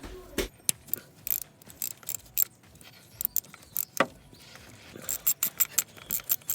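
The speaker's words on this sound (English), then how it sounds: "You put the socket onto the bolt once you've taken the leads off, and you can obviously see that the ratchet's going to connect onto the bolt there." A ratchet and socket working a bolt on a VW T25 starter motor, rapid metallic clicks and taps in uneven bursts, close and sped-up, with no talking.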